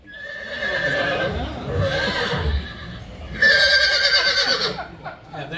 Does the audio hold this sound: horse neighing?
yes